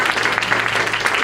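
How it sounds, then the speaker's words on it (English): Audience applause at an all-white women's business brunch, dense rapid clapping close by, loud and continuous for a brief moment. "so let's really applaud them"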